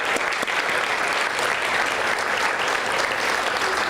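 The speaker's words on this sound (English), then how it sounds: "One more round of applause for all of our amazing speakers tonight." Audience applause at an evening talk event, steady dense clapping sustained loudly throughout without pause.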